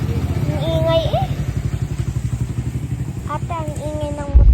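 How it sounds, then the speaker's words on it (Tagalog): A noisy motorcycle engine chugs close by in a rapid, steady pulsing rhythm while voices talk over it, ending with a louder burst. "ang ingay ng motor nyo"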